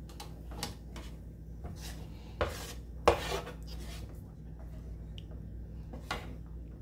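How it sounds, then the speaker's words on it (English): A metal spatula scrapes scrambled eggs off a griddle onto a plate, making a few soft scrapes and clinks with two sharper knocks near the middle, all fairly faint against a quiet room. "use my spatula to get my delicious scrambled eggs onto the plate"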